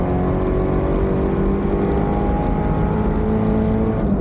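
A turbocharged Mazda Miata at a race track roars loudly and steadily from up close, a constant, overwhelming engine drone with no breaks and no voices.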